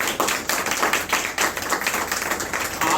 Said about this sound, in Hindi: और एक बार जोरदार तालियां मारिए दूसरे के लिए।